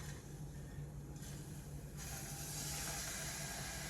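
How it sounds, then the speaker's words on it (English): Rinse water from farro hitting a hot cooking pan, a steady broadband hiss that swells louder partway through and holds, with no talking. "That's the water from the rinse meeting the hot pan."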